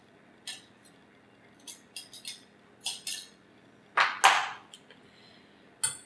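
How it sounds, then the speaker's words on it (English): A metal fork scrapes and clinks against a pastry blender in a bowl, knocking off mashed egg for a tuna salad, in a series of sharp close taps and scrapes with short pauses between. "you can take the fork and scrape off all the egg that's stuck on the pastry blender"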